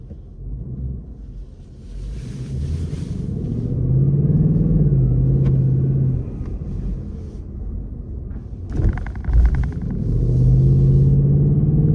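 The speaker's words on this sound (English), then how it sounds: "cars are coming and all that, like 2 cars at once" Two cars passing close by on a road, a steady low rumble that swells and fades, with a brief clatter near the middle and a second vehicle rolling through toward the end; no talking.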